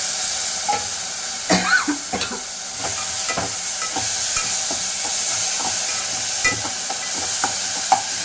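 Ground tomato and curry leaves sizzle in hot oil for rasam, a loud steady frying hiss up close with repeated scraping stirs and clinks of a spoon against the pan.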